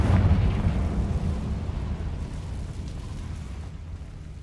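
A Confringo fire spell blasting in Hogwarts Legacy, a heavy booming explosion that hits hard at the start and then rumbles and decays for several seconds.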